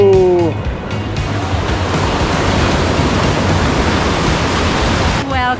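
Ocean surf rolls continuously at Tamarindo surfing beach, Costa Rica, at sunset: a loud, steady broadband wash of breaking waves, with brief voices at the start and end.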